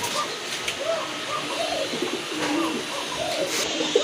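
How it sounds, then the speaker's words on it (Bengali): Pigeons at a pigeon seller's stall coo in repeated soft, rounded phrases, close and moderately loud, over a low background murmur. "মাশাআল্লাহ এখানে দেখতে পাচ্ছেন আরেক জোড়া কবুতর"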